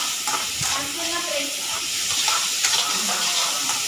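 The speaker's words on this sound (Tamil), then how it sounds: "வெங்காயத்தையும் பச்சை மிளகாய் எல்லாம் சேர்த்து நல்லா வதக்கணும்" Steady sizzling hiss of onions and green chillies sautéing in hot oil for samosa filling, continuous and fairly loud, with faint clinks and stirring sounds and brief voices in the background.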